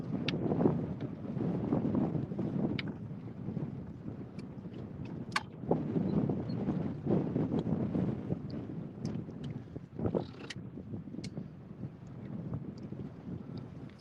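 Wind gusts buffet the microphone aboard a small boat on open water in Louisiana, a steady rumbling roar with scattered knocks and clicks, no voices.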